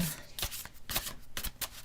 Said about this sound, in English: let's shuffle the cards 3 times